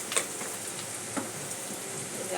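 Onions frying in a pan for an egg dish, giving a steady soft sizzle throughout with a few faint pops and stirring ticks, quiet and continuous with no voices.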